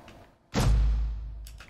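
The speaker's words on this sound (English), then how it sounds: "I used this Fortnite Death sound I found in this Fortnite Death sound pack" Fortnite death sound effect from the video game, a sudden deep booming thud with a heavy low-end swell that decays over about a second, followed by faint noise, alone without speech.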